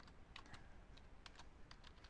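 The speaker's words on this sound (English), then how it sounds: "Be nice if this is a quiet keyboard." Keystrokes on a computer keyboard during a digital drawing session with an Intuos tablet, a steady scatter of light, close clicks in quick irregular bursts with no talk.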